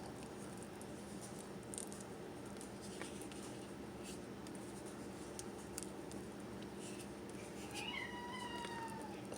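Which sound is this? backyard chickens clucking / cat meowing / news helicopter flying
cat meowing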